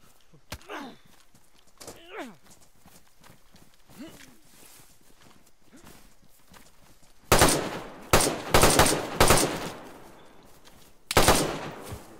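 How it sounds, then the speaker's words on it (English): Gunfire in the DayZ video game: a few quiet footsteps first, then a rapid loud burst of automatic shots and a final volley, close and sharp. "I'm gonna jump over and shoot him"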